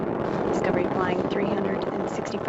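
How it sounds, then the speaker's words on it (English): Space Shuttle Discovery's engines roar during ascent on mission STS-119, a continuous broad, crackling rumble with a commentator's voice speaking over it. "Discovery's engines are throttling down as the orbiter passes through the area of maximum pressure on the vehicle."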